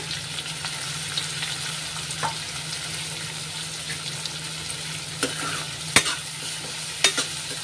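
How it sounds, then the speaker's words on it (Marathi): Onion and curry leaves fry in oil in a pan for a soybean masala, making a continuous crackling sizzle with occasional sharp clicks from stirring. "त्याच्यानंतर आपण इथे कांदा घालू आणि कढीपत्ता घालूया।"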